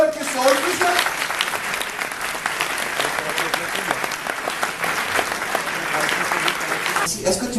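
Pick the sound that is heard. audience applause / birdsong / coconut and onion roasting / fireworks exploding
audience applause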